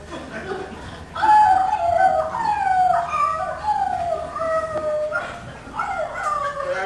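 A dog in a Mountie comedy howls and whimpers in long, sliding, mournful wails, several rising-and-falling cries in a row, close and prominent with no speech over them.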